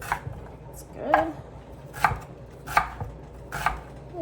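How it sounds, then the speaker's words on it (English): A knife chops onion on a cutting board in a home kitchen, with four or five distinct thuds spaced about a second apart over a quiet room background. "I'm just gonna give this a little chop."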